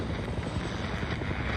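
Helicopter flying in a scene from the Chernobyl TV series, a steady muffled rotor drone and engine roar that fills the short stretch without pause.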